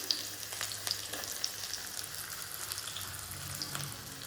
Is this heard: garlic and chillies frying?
yes